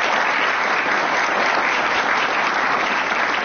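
A studio audience applauds to welcome actors onto the stage, a dense, steady wash of clapping close and loud throughout, with no voices over it.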